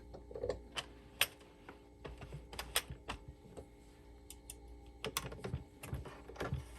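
An Addi Express King Size knitting machine gives a series of sharp close clicks and ticks at an irregular rhythm as its needles drop, with quieter mechanical rattling in between.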